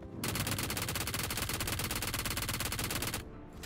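Rapid automatic gunfire in PUBG, a battle royale shooter played solo in first-person mode, bursts loud and continuous for about three seconds with a dense rattling rhythm, then stops abruptly.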